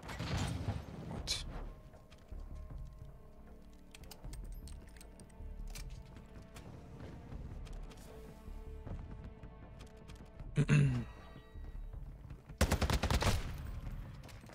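Suppressed MK2 gunfire with incendiary rounds in the Modern Warfare II video game, heard as short muffled bursts around the middle and a louder cluster near the end, over a busy background of game noise and brief voice.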